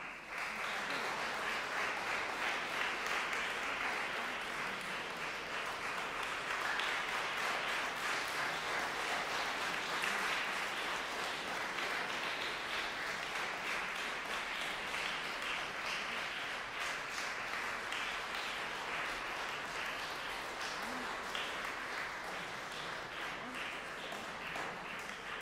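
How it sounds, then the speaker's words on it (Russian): An audience at a junior college concert applauds steadily and densely for the whole stretch, a continuous wash of many hands clapping with no pause or break. "Друзья мои, я прошу продолжить свои аплодисменты"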